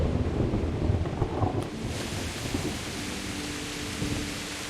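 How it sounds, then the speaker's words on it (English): Heavy rain in the video game Kingdom Come: Deliverance pours in a dense, continuous roar, with a low rumble of thunder early on, then settles into steady downpour with no voices. "It's raining a lot."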